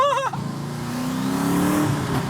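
A twin-turbo Camaro SS engine accelerates hard, a loud rising roar with climbing harmonics after a brief shift blip at the start, close and continuous throughout.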